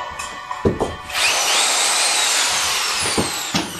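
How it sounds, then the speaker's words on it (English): A power drill whirs up and runs steadily at high speed for a couple of seconds, with handling clicks and knocks before and after, close by. "Bought myself a new drill."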